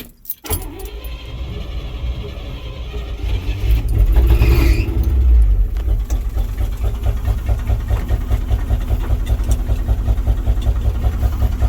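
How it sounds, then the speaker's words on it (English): A 1967 International service truck engine starts with a brief rattle and jangle, catches, swells loudly for a moment, and then settles into a rough, pulsing low idle that runs on close by without any voices. "I'm just going to drive over this thing with the old service truck here."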